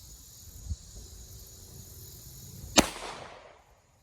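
A single sharp gunshot cracks from a Bond Arms pistol firing 32 H&R Magnum outdoors, loud and close, followed by a short fading tail, with a faint thump earlier and quiet surroundings otherwise.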